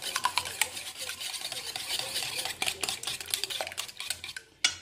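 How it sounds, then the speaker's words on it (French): Whisking a quiche filling of crème fraîche and milk: rapid, steady metallic scraping and clinking of a whisk against a bowl, close and continuous, with a few sharper knocks near the end. "Je vais le fouetter."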